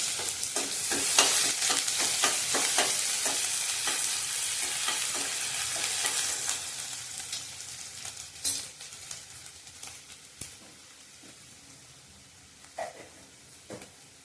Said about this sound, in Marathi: यात आता बारीक चिरलेला एक कांदा आपण भाजून घ्यायचा आहे